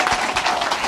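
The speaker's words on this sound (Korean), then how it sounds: "스타벅스에서 박수! 박수." Brief burst of applause from an audience in a Starbucks setting, dense steady clapping over the whole moment with a faint voice underneath.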